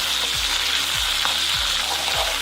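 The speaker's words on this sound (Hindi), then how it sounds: "प्याज को हम हल्का सा फ्राई करेंगे" Onions frying with garlic in a pan for a fish curry, giving a steady close sizzle with a few soft stirring scrapes at regular intervals and no talk.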